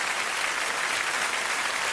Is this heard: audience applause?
yes